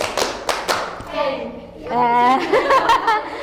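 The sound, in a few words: group clapping twice in a clapping game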